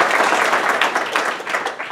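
A short burst of steady clapping from a seated crowd at a local business community meeting, moderately loud and continuous throughout, without any voices over it.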